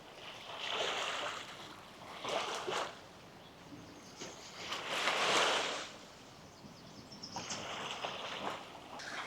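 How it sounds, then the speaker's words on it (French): Ocean waves break and wash ashore in repeated surges, each swell rising to a loud crash and fading, with wind buffeting the microphone between them. "Vous voyez les vagues qui sont en train de frapper comme ça?"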